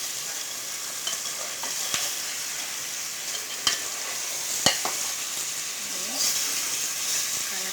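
Rohu fish sautéing and being stirred in a pan: a steady close sizzle with occasional sharp clinks and scrapes of the utensil against the pan, continuous throughout.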